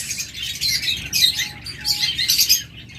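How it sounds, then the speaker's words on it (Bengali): A pair of long-tailed finches chirp in quick, high, close calls that come in clusters and pause briefly between them. "এটা হলো লং টেল ফিন্স"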